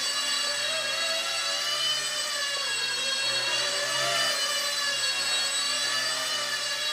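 A small Esky F150 V2 Airwolf RC helicopter flies indoors, its motor and rotors giving a steady, close, high-pitched whine that wavers slightly in pitch and holds continuous throughout, with no voices.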